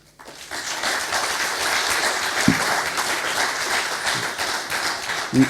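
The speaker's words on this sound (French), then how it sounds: "Je pense qu'on peut les applaudir." An audience at a geolocation seminar applauds the student staff, a warm continuous round of clapping from a roomful of people that starts abruptly, holds steady and begins to thin near the end.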